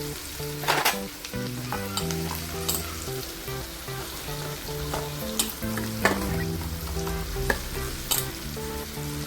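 Mashed eggplant frying with browned onion in a pan: a steady sizzle with occasional stirring scrapes and clatters, close and moderately loud, over soft music.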